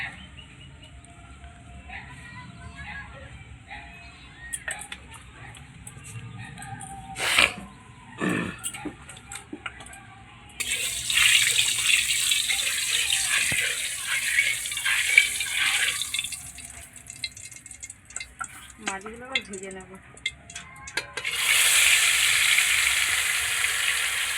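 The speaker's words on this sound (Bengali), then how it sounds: "কড়াই গরম হয়ে গেছে এই যে এবার তেল দিয়ে দেবো" Cooking oil hits a hot wok and erupts into a loud, hissing sizzle that starts partway through, fades, then surges again near the end, after quieter kitchen and outdoor sounds.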